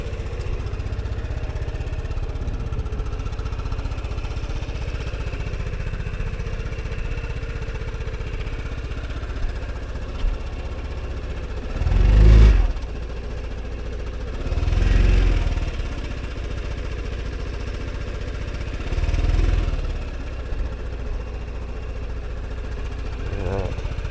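A Vespa GTS 300 scooter engine runs steadily at idle, a low constant hum broken by three brief throttle blips that swell and fade, heard close by.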